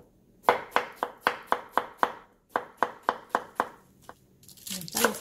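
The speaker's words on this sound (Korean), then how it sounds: "야채를 잘라 볼게요" A knife chops vegetables for a squid stone-pot bibimbap in quick, crisp strokes, about fifteen sharp cuts in two rhythmic runs split by a short pause, ending in a burst of rustling handling noise.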